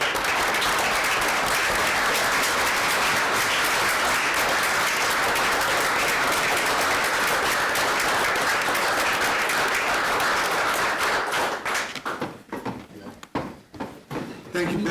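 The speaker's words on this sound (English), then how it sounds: "to give Director Fiander a round of applause." A room full of people at a council meeting applauds steadily for about twelve seconds, then the clapping thins out to a few scattered claps before stopping.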